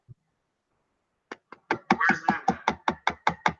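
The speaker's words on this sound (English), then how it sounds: "I was just tapping the side of the laptop." Fingers tapping the side of a laptop, a few separate knocks that speed into a steady run of about a dozen even, fairly loud taps, close up, with no voices.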